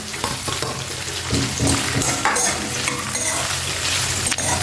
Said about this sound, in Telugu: ఇప్పుడు వేసుకుంటే లైట్గా వేగుతాయి